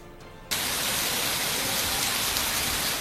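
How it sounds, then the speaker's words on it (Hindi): Heavy rain pouring down in Karachi, a dense steady hiss of downpour that surges in after a brief quieter start and stays loud and continuous throughout. "कराची में दूसरे रोज भी तेज बरसात।"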